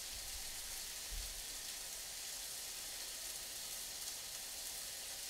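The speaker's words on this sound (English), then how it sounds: "All right, meat's down. You can hear the sizzle" Meat frying in a pan for a Chinese dish, a steady soft sizzling hiss that carries on evenly throughout with no talking.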